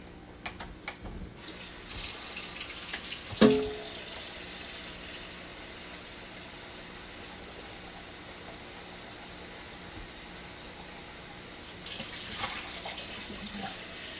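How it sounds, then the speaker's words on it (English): Tap water running into a pot of beef and vegetable soup, a brief splash followed by a soft steady hiss of flow, close and quiet, then a second short burst near the end. "Now I'm going to add some more water."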